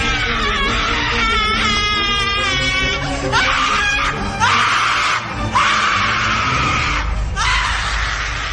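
A witch's scream and wail as a horror story sound effect: loud, sustained shrieking and sobbing cries that rise and break repeatedly, filling the whole stretch with no pause.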